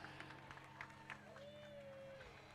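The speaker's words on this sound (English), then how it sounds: "Big round of applause" A roadside crowd at a bicycle criterium race gives scattered, moderate applause for the winners, heard over a steady background hum and brief whistling tones, with no clear voices.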